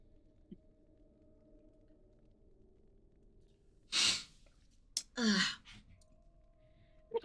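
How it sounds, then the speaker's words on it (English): Two close, sharp sneezes in a row, each a sudden noisy burst breaking a quiet background hum. "Sneezing is a normal human thing to do."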